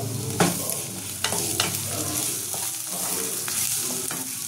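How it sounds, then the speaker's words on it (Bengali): Onion frying in a pan for Punjabi-style dal, with ginger and garlic going in; a steady close sizzle runs throughout, broken by a few sharp stirring scrapes and clatters. "পেঁয়াজটা ভাজা ভাজা হয়ে গেছে, লাল লাল করে ভাজা হয়ে গেছে। এর মধ্যে আমি আদাটা দিয়ে দেবো, রসুনটা দিয়ে দেবো"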